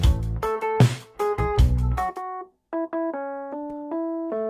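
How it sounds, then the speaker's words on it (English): A Fender Rhodes electric piano plays a short phrase of warm, bell-like chords and single notes, starting with fuller hits and thinning to sustained tones, with a brief gap and no voices. "That's a Fender Rhodes there."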